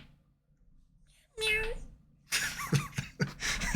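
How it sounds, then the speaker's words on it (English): A cat meows once in a short, tonal call, then louder people's voices and laughter take over. "There's the cat voice."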